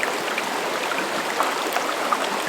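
Stream water running steadily through a gold panning sluice in a Vermont creek, a continuous close hiss of flow with faint trickles and small splashes, no voices.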